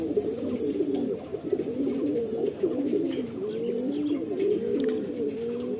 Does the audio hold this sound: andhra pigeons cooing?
yes